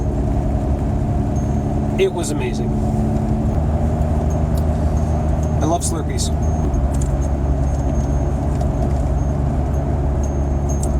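A car rolls along Seven Lakes Drive through Harriman State Park, its steady low engine and road hum filling the cabin the whole time while a person talks over it.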